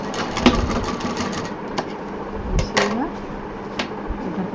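A sewing machine stitches a loop onto a handpurse in short mechanical bursts with clicks, nearby and moderately loud, while a person talks over it.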